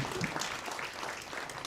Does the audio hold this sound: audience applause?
yes